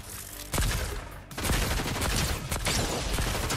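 Hip fire from the Iron Man mythic weapon in Fortnite, a sudden loud blast that breaks off and then returns as a sustained roaring barrage with a few sharp spikes.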